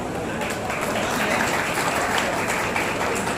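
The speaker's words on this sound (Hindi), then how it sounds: "जोरदार ताली होना चाहिए।" A large audience at a rally stage claps steadily in dense, continuous applause that holds at an even loudness for the whole stretch.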